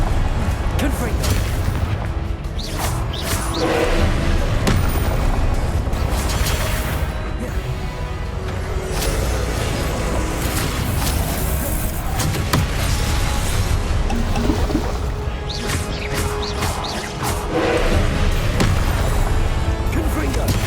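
Repeated Confringo blasting spells in Hogwarts Legacy gameplay, a dense run of booming, crashing impacts over a constant loud wash of game effects, with voices calling out spells throughout.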